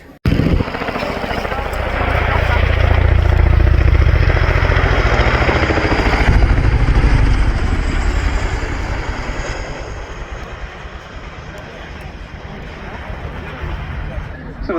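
A Chinook helicopter repositions at the RAF Cosford Airshow with a loud, broad rotor and engine roar. It swells early and then eases slightly, running steadily through the whole stretch.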